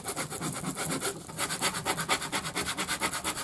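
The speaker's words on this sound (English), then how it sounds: "I'm going to use my scraper." A plastic scraper rubs back and forth over craft vinyl to press it onto transfer tape, rapid rhythmic scratchy strokes close up, about five per second, with no talking.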